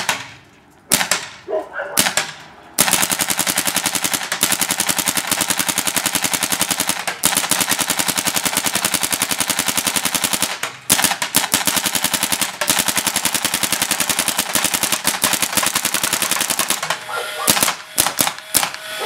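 Paintball gun firing in a backyard, long rapid bursts of sharp cracking shots almost without pause, loud and close, with brief breaks and a few voices near the end.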